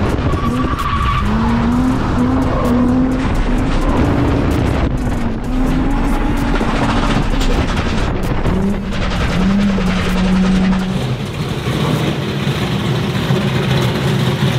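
A drift car screams through a slide with loud, continuous tire squeal over a high-revving engine, sustained and close for the whole stretch with pitch shifts as it changes direction.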